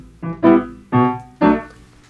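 A song excerpt in 5/4 meter, played with one hand, with notes grouped three and two: a short sequence of four distinct tonal bursts with uneven spacing, moderately loud and alone.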